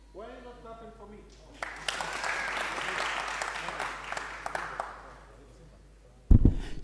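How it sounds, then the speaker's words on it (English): A voice speaks briefly, then a conference audience breaks into sustained applause, steady clapping that carries on for several seconds before a sharp loud thump near the end. "Why are you not clapping for me?"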